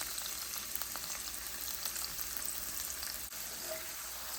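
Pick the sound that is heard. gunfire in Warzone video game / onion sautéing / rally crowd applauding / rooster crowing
onion sautéing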